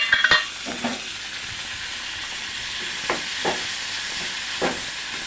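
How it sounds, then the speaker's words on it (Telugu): Tomatoes sizzling in hot oil for a paneer butter masala base, a steady broadband frying hiss throughout with a few brief stirring scrapes and clicks scattered over it, no voices present. "ఆయిల్లోనే ఇప్పుడు టమాటోస్ వేసుకుందాం"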